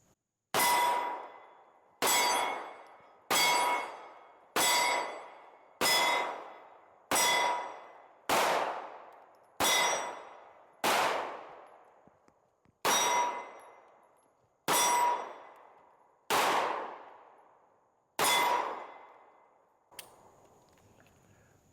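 A pistol fitted with a Shield carry comp is fired at steel targets: about thirteen evenly spaced shots, each followed by a bright ringing clang that fades over a second or so, loud and with no talking.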